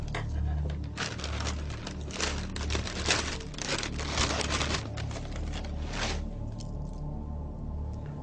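Iron-fortified cereal flakes being taken out of their package: repeated close crinkling and rustling of the bag and flakes in bursts, fading to quieter rustles toward the end, with no talking.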